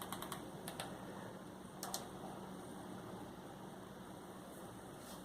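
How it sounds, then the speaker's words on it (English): A search is typed on a computer keyboard in a few quick, faint clusters of key clicks over a steady low background hum. "Type in Ed Wood"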